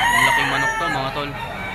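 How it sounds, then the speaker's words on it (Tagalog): A rooster crows once, close and loud, a long drawn-out call with a strained, raspy tone. "Ang laking manok to mga tol."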